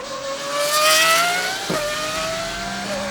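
A Pagani Huayra R Evo Roadster engine rises loudly as the car accelerates, its pitch climbing steadily, then there is a sharp gear change and the engine climbs again, with no talking.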